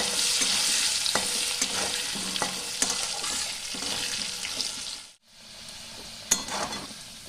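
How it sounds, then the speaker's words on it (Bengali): Potato pieces frying in oil to a deep red colour, a steady close sizzle broken by scraping stirs and clinks of the spatula, briefly dropping to near silence before the frying resumes. "এবার আমি আলুটাকে লাল করে ভেজে নেব"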